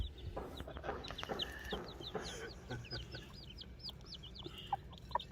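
A hen clucks softly among her chicks while the chicks give a run of high, thin cheeping peeps, faint and slightly distant, under low background noise.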